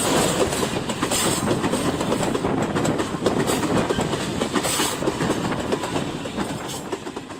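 The Banalata Express train runs along its tracks between Dhaka and Rajshahi, a loud continuous rumble with rhythmic clickety-clack of wheels over rail joints throughout.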